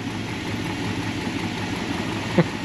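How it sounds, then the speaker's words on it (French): A smooth, quiet engine of a 1966 Plymouth Barracuda idles steadily with a low, even rumble and no revving, one faint tap near the end. "Je vous fais entendre le moteur."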